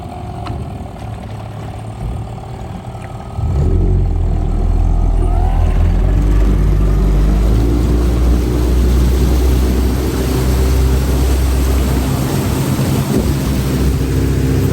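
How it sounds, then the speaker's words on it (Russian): A 1997 Suzuki two-stroke outboard motor on a boat sounds quietly at first, then roars up loud and steady close by, holding a strong droning whine for over ten seconds. "Это звуки мотора Сузуки."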